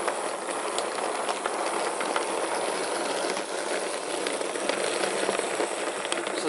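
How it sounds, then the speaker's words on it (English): Narrow gauge model locomotives run in a line through a tunnel portal on a model railway layout, giving a steady, close whirring clatter of wheels on track that continues throughout. "So I've got my narrow gauge locos running in cavalcade for this."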